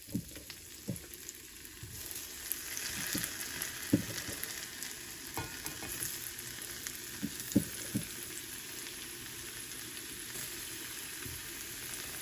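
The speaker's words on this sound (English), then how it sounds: "My oil is really hot, so I will very carefully place the potatoes in." Potatoes frying in hot oil make a steady, fairly quiet hiss with scattered small pops and crackles, heard close with no speech.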